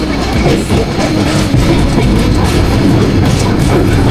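A train on the Brahmanbaria–Comilla line in Bangladesh rumbles loudly and continuously along the rails close by, with a heavy, rattling clatter of wheels throughout.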